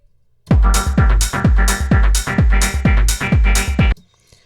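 Electronic dance track, Sam Paganini's "Mercury," with a pounding four-on-the-floor kick and bright hi-hat hits in a steady driving rhythm, loud and up front, then stopping abruptly.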